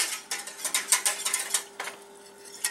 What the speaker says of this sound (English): Mixing it together.